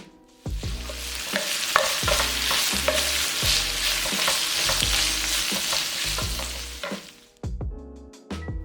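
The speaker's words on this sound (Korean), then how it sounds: "잘 섞어주고 골고루 저어주면서 1분 정도 볶아주고 불을 꺼줬다" Shishito peppers with oyster sauce, soy sauce and syrup sizzle loudly in a hot pan while a utensil scrapes and clanks repeatedly, stirring in an uneven rhythm before a brief pause near the end.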